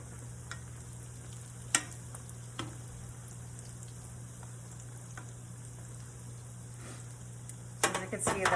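Scone dogs frying in a pan give off a soft, steady sizzle with a few light taps and clicks, and a louder burst of crackling near the end.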